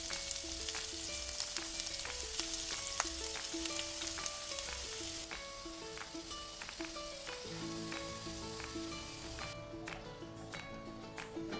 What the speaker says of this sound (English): Next, we're going to roast the garlic.